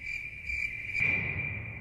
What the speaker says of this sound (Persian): همینجور سوت و کور با صدای جیرجیرک در پس زمینه